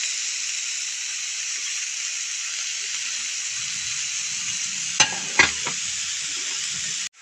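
Grated coconut and sugar cook in a pan as the sugar melts, making a steady bright hiss with a couple of sharp utensil knocks near the end, then silence.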